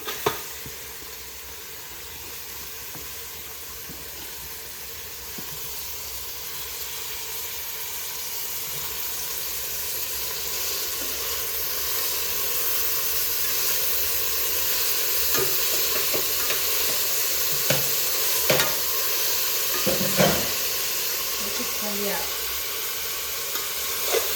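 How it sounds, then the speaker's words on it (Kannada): Tomato and chopped coriander masala frying in a pan for chicken biryani, a steady close sizzle and hiss with stirring scrapes and a few sharper clicks of the spoon near the end, no talk. "ಚೆನ್ನಾಗಿ ಎಲ್ಲ ಫ್ರೈ ಆಗಬೇಕು, ಚೆನ್ನಾಗಿ ಪೇಸ್ಟ್ ಥರ ಆಗಬೇಕು, ಹಂಗೆ ಫ್ರೈ ಮಾಡಬೇಕು."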